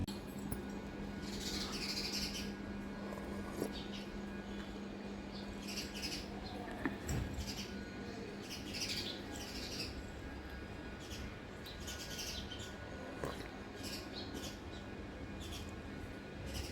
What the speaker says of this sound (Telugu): ఇప్పుడైతే ఒక గుంపులాగా వచ్చినాయి పక్షులు